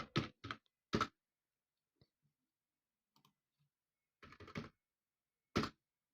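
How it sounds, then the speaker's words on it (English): Typing on a computer keyboard: a few short clusters of crisp key clicks separated by near silence, close and fairly quiet, with no talking. "if I was to type in like feline"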